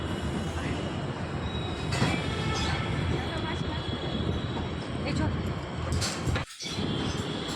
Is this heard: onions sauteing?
no